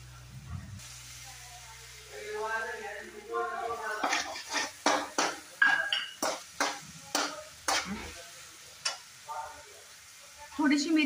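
Vegetables for paneer chilli frying in a pan, with a run of sharp spatula scrapes and clinks against the pan over a soft sizzle. A person talks in the first few seconds.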